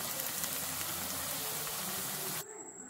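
Raw banana slices fry in hot oil for a Chettinad-style fry, giving a soft, steady sizzle and hiss that runs close and alone before cutting off abruptly near the end.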